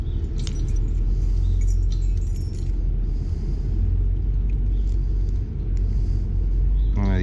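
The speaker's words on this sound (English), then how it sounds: "None of the keys on this are master keys" A bunch of keys, some of them old, chinks and jangles in bright, scattered clinks over a heavy, continuous vehicle rumble. One sharper metallic rattle comes near the end.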